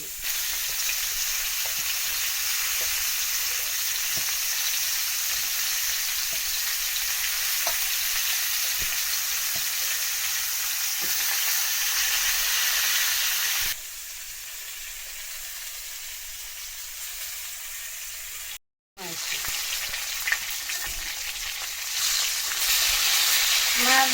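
Fish fries in a pan with a constant loud hiss close by. Halfway through it drops quieter, then cuts out briefly before resuming.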